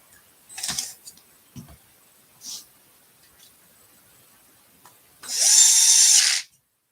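A handheld power drill driving screws into a board whirs in one sustained, close burst near the end, after a few short clicks and taps of handling.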